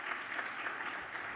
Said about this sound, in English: I wanted you to enjoy the applause